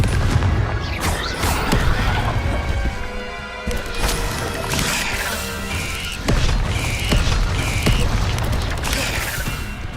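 Confringo fire spells bursting in Hogwarts Legacy, a dense run of booming, crackling impacts with clattering mechanical debris, loud and continuous throughout with sharp hits recurring every second or two.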